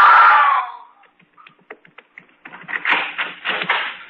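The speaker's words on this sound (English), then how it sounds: "I heard someone scream." A short, loud high-pitched scream from an old-time radio drama opens, then cuts off into quiet clicks and soft rustling that grow busier toward the end.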